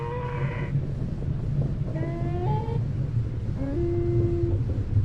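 Pith creature from the video game Bastion lets out three drawn-out tonal moos, each with a rising pitch step, over a steady low background rumble.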